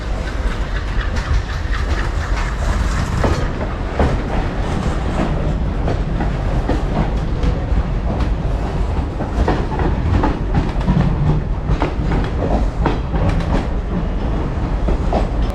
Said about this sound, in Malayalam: ഈ വരുന്ന ട്രെയിനാണ് എനിക്ക് മുംബൈയിലേക്ക് പോകാനുള്ള ഡെക്കൻ എക്സ്പ്രസ് പ്ലാറ്റ്ഫോമിലെത്തിയിരിക്കുന്നു